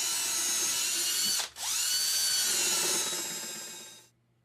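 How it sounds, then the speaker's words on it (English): A power drill bores countersunk holes through a wooden tambour slat into a drawer back: loud steady high whine, a brief dip partway as the bit catches, then spinning down to silence. "I drill countersunk holes through the slat into the bottom edge of the drawer's back"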